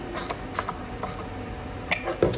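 A screw is torqued down during a macrobinocular build, giving short dry clicks and faint creaks spaced irregularly, close and fairly quiet.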